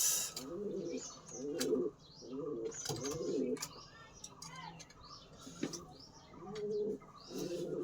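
A racing pigeon coos repeatedly up close in a steady rhythm of short, throaty rolling phrases, with brief clicks and faint chirps between them.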